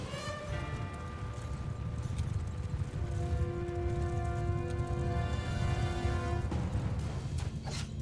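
Mounted troops gallop across a Mount & Blade: Bannerlord battlefield, a dense, steady drumming of hooves with a brief whinny, layered under a sustained tonal drone.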